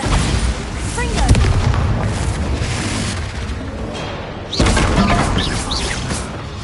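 Bombarda explosion spell cast in the Hogwarts Legacy Harry Potter video game: loud booming blasts with debris, one near the start and another burst around the middle, over continuous game noise.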